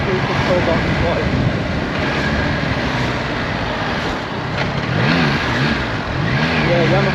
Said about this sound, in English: Yamaha's quickshifter